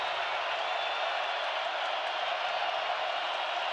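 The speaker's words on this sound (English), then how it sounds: "Listen to this crowd." A packed college football stadium crowd at South Dakota State versus North Dakota State holds a steady, distant, hissing roar with no distinct voices standing out.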